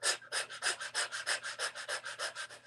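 Rapid, rhythmic breathing in and out through the mouth, about a dozen even, close breaths in quick succession during a guided breathing exercise, with no talking.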